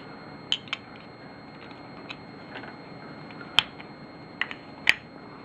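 An Arisaka World War II Japanese service rifle bolt is put back together, giving a handful of sharp metallic clicks and snaps spaced irregularly over a quiet background.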